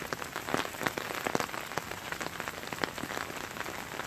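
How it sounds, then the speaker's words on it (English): Steady rain falling outdoors on a Sunday in southeastern Wisconsin, dense close patter of drops hitting surfaces, continuous with no voices. "it is raining here on Sunday in southeastern Wisconsin"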